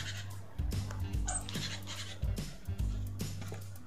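A nervous dog barks and pants in short irregular bursts, fairly close, with scratchy movement around it amid a tense, noisy day in Sloviansk; no talking.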